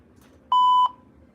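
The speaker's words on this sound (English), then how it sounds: "Now we're on to privacy tones." A single steady electronic privacy tone sounds from a speaker strobe, one clean sustained beep of about a third of a second with no other sound around it.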